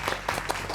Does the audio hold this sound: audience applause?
yes